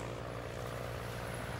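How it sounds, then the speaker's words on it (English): An airplane flying high overhead, a steady, distant engine drone with an even, unbroken rumble throughout. "I hear an airplane flying high in the sky."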